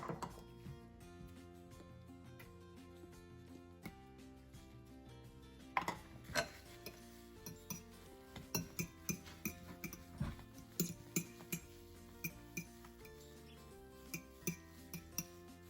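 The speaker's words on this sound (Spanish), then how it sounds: "Entonces voy a batir las claras." A whisk beats egg whites in a bowl for chiles rellenos batter, with yolks being added. Faint at first, then rapid metallic clinks and scraping come in uneven bursts, close and without talk.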